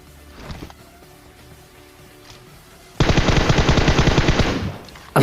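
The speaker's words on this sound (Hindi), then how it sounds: "आज की इस वाली वीडियो में तुम्हें टॉमी गन देखने के लिए मिलेगी बिल्कुल खतरनाक तरीके से" A Tommy gun fires in the PUBG video game as a fast, loud automatic burst of about two seconds, preceded by quieter in-game ambience and a faint shot.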